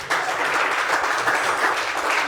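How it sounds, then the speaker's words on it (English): Audience applause at a leadership breakfast session, a steady dense wash of many hands clapping that runs throughout without speech over it. "Please clap for us,"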